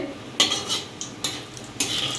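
Whole cumin seeds dropping into two spoons of hot mustard oil, giving a few sharp crackling bursts between quieter stretches of steady sizzle, close up with no talking.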